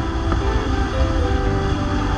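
A Kawasaki Z1000R with an inline-four engine and full exhaust system holds a loud, continuous low rumble with a dense, steady engine drone.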